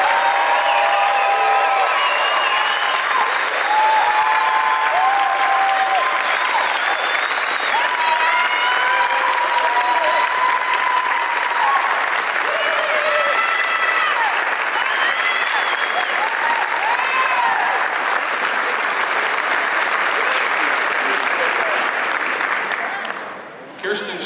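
A large crowd at a women's basketball game applauds and cheers continuously in a memorial moment of cheer, with whoops and shouts rising over steady clapping, loud and sustained until it fades at the end.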